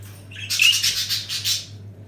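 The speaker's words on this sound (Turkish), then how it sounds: "Burada böyle bir takım kuşlarımız var." Budgerigars kept at home for breeding chirp and chatter close by in a brief bright flurry of warbling calls over a low steady hum.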